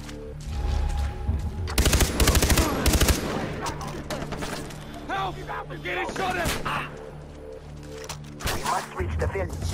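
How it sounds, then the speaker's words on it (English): Dense bursts of automatic gunfire in the video game Far Cry 3, loudest in a rapid volley early on, then scattered shots mixed with game voices and ambient noise. "Help! I'm getting shot at!"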